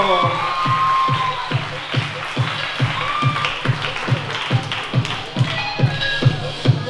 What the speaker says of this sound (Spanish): regálenmele un aplauso al cumpleañero